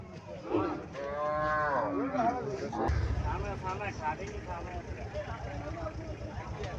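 Cattle, including Sahiwal cows, moo loudly and close by at a cattle market in Comilla, Bangladesh, a long drawn-out low call followed by more lowing, amid a noisy crowd and people talking.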